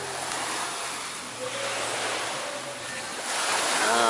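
Sea waves at PacMan Beach Resort, a steady broad wash of surf with gusty wind noise on the microphone, swelling slightly toward the end, with no voices.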